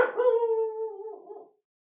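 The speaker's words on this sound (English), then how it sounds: "don't know what he's barking at." A single drawn-out dog bark or howl, close and fairly loud, rises and trails off within about a second and a half, then silence.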